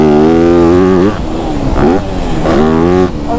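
A Yamaha YZ250F dirt bike on a dirt track, engine loud and close with harmonic pitch rising then dropping between gear changes, revving again toward the end.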